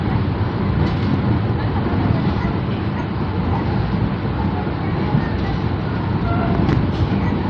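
Wijaya Kusuma passenger train in premium class rolling along the rails, a steady, loud low rumble and rattle that runs unbroken throughout with no voices.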